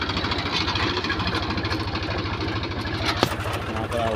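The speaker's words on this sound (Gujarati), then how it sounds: "ટ્રેક્ટર જાય રહ્યું હવે બીજું ખેડવા" A farm tractor engine chugs steadily on its way to plough a field in a village, with a loud, even low-pitched throb throughout and a brief sharp knock near the end.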